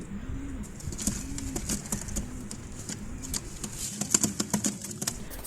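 Pigeons at a pet shop coo softly in a steady, repeating rhythm of low rounded calls, with light clicking and tapping noises scattered alongside.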